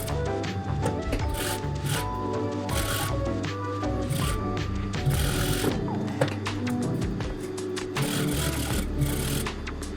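A sewing machine stitching fabric gathers for a wrap dress, a busy, close mechanical whirring with rhythmic stitching bursts and handling rustle throughout.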